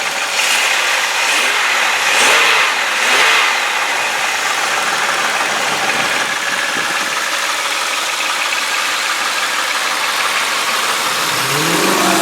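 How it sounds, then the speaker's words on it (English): A 2003 Chevy Malibu sedan's 3.1 liter V6 runs steadily and loud up close, with a couple of brief revs swelling early on before settling back to an even, continuous engine drone. "Alright, now I'll rev the engine up a little bit."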